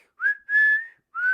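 A whistle blown in three clear, loud blasts, each a bright sustained tone with a slight rising start, separated by short silences.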